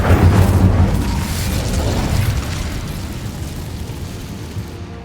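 Incendio fire spell cast in Hogwarts Legacy: a loud, heavy whooshing burst of flame with deep rumble that roars for several seconds and slowly tapers off.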